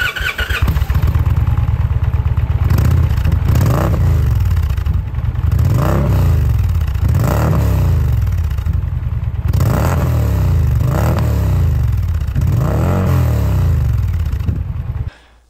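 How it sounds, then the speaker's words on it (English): A 2022 Indian Pursuit touring motorcycle's 1769cc Power Plus V-twin with 11-to-1 compression idles with a loud, close throb and is blipped through repeated revs that rise and fall before cutting off at the end. "what you're hearing is a 1769cc Power Plus V-twin with 11-to-1 compression ratio"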